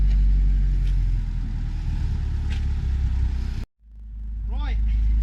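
An old, rusty car with no power steering drives along, its engine running loud and steady with a low rumble. It cuts out briefly near the end, then comes back as a whine rises and falls over the motor. A voice is heard in the background.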